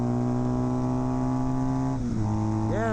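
A Kawasaki KZ400 tracker motorcycle engine drones steadily at speed, then the pitch drops and climbs again through a gear shift, loud and close with wind noise.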